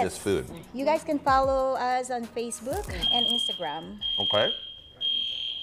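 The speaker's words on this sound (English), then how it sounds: "That's the fire alarm." A fire alarm goes off in a TV studio, a steady, piercing electronic tone sounding in repeated bursts as people keep talking over it.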